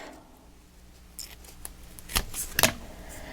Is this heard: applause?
no